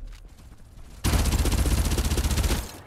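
Gunfire in the Farlight video game: after a quieter start, a loud, sustained automatic burst of rapid, evenly spaced shots rattles close up for about a second and a half.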